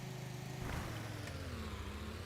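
A car engine in the Roblox game Dead Rails drones steadily and loudly, its tone sliding slightly in pitch as the vehicle moves, with no talk over it.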